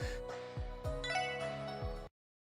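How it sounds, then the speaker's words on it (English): A phone ringtone from The Legend of Heroes: Trails from Zero plays a bright, repeating melodic chime pattern several times, then cuts off abruptly into silence. "I actually have a phone call"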